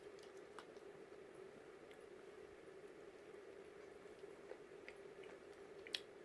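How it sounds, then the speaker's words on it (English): Biting and chewing a Speedway cold sub sandwich with Italian meat and turkey, soft squishy close-up mouth sounds repeating steadily at low level with a few faint clicks, no talking. "Just on the tip there where I'm biting."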